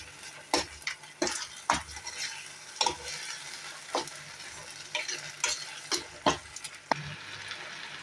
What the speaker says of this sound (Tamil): நான் ஒரு 2 நிமிஷம் மட்டும் நம்ம கிளறிடுவோம்.